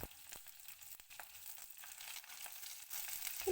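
Sliced shallots frying in hot oil in a pan for a tomato curry, a soft steady sizzle with light stirring scrapes, close and fairly quiet, no talk.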